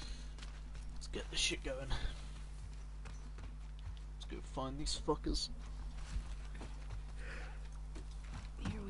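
Horse hooves in the video game The Last of Us Part 2, a soft, steady clip-clop running under a low background hum while a player speaks over it.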